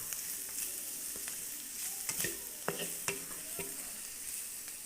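Vegetable pulao rice being stir-fried with black pepper in a pan, soft steady sizzle with scattered scraping and clinking stirs of a utensil, fairly quiet and close, no talking.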